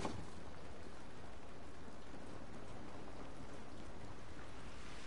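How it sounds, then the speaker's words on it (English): Steady rain falls in the video game The Last of Us, a continuous even hiss of drops on surfaces with no talking heard. "This rain ain't gonna do us any good."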